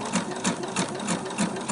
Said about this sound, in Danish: Og så starter jeg med at sy.